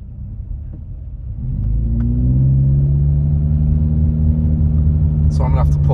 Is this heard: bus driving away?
yes